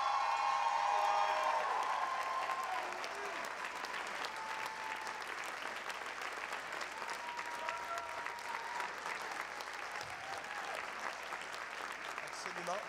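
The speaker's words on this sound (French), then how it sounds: "une main d'applaudissement, bien sûr, immense pour notre extraordinaire orchestre" An audience at a school concert claps for a secondary school orchestra, a dense sustained round of applause that starts strong and settles slightly, continuing without pause to the end with only faint background voices.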